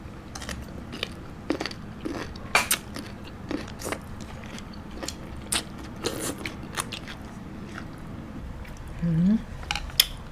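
Crispy skin of braised pork leg, slow-cooked four hours, is bitten and chewed close to the mic with sharp crunches and wet chewing, and a short hum of voice near the end.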